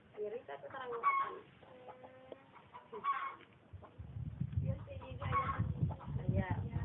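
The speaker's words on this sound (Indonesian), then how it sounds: "ciri khas di kampung itu banyak ayam kampung sahabat ya" Free-range village chickens cluck and call in a rural Indonesian village setting near rice fields, intermittent fowl sounds heard under someone speaking.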